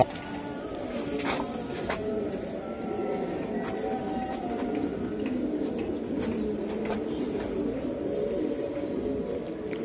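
Racing pigeons of Kitel bloodline, prize-winning birds kept in a loft, coo softly amid a steady, noisy background hum with scattered faint calls throughout.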